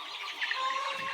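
Layer chicks chirp in a continuous high, bright twittering chorus, close and fairly soft, with no talk.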